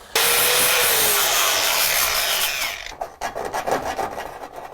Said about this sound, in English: first thing I want to do is I want to drill the hole